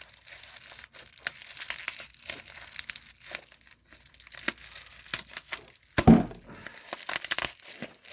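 Crinkly plastic packaging is handled and torn open at close range, with irregular crackling crunches and rustles that come and go. One louder crunch near the end, and no talking.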